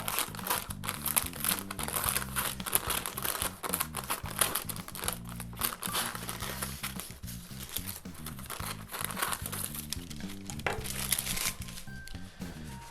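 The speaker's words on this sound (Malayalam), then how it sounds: "നമ്മുടെ ബട്ടർ പേപ്പർ കട്ട് ചെയ്തെടുക്കുക കേട്ടോ" Butter paper (parchment) being cut for a chocolate sponge cake, a steady loud crinkling and rustling of paper with rapid snipping clicks running continuously, no talk.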